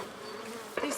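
Honeybees at an opened hive during the year's first inspection, a steady close buzz of many insects with a sharper burst near the end.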